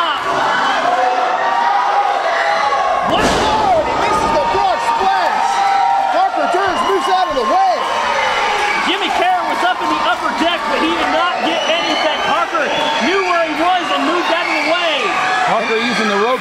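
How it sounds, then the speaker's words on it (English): A wrestling crowd at the Battle Zone roars and cheers nonstop through a falls count anywhere match, a loud, dense wall of shouting with a sharp burst early on, while commentators talk over it. "This crowd is just off the hook here tonight at the Battle Zone"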